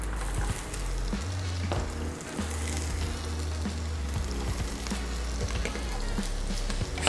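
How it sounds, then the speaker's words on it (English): Onion and carrot sweat in a pan alongside crispy bacon, giving a steady, dense sizzle close by that runs continuously with a low hum underneath and no voices. "Sweat it all out. Sweat the onion and sweat the carrot."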